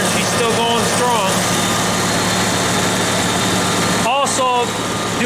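A roughly 70-year-old Farmall Super C tractor idles loudly and steadily up close, its engine rumble continuous with a few brief squeaky tones over it.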